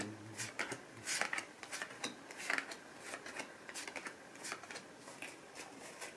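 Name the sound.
shuffling tarot cards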